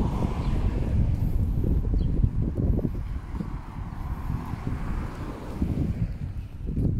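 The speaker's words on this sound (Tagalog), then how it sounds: "Sarap ng hangin, presko." Blustery wind on Mount Wellington, New Zealand, roars against the microphone in rough, continuous gusts, loud and unbroken with no voices.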